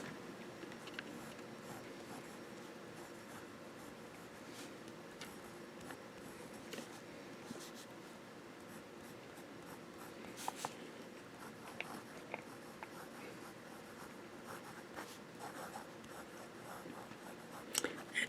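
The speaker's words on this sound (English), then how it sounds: "So let's get to writing and see what it's going to look like." A Hero 616 fountain pen with a fine nib writes on thin Tomoe River paper, giving a steady, quiet scratching with small ticks and taps from strokes, close and faint, with no one speaking.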